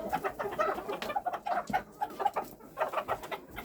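Backyard chickens, hens with a few roosters, cluck and murmur in a steady overlapping chorus, with sharper calls popping out now and then, fairly close by.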